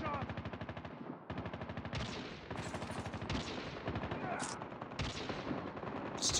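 Call of Duty Mobile gunfire in a team multiplayer match rattles in dense automatic bursts with scattered single shots, loud and nearly continuous, with a game voice announcer faintly heard.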